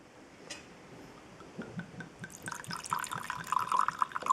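Wine poured from a bottle into a glass, a soft gurgling trickle and drips that grow into a fuller splashing pour, close and without talk.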